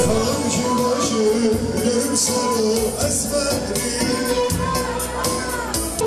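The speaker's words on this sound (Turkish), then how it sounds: "hayranları ünlü sanatçının sahneye çıkacağını öğrendikleri anda tezahürat ile sanatçıyı karşıladı" A concert crowd in Erzurum cheering as a singer comes on stage, a loud, steady wash of shouting and cheers mixed with music.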